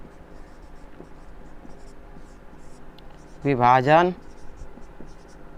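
A pen scratches steadily on paper during a maths lesson, soft continuous scribbling throughout, briefly covered by a single spoken word from a teacher.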